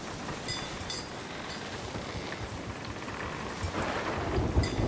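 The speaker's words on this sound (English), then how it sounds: "This storm just keeps getting crazier." Thunderstorm at sea in the Sea of Thieves video game, with steady heavy rain hissing throughout and low thunder rumbles building toward the end.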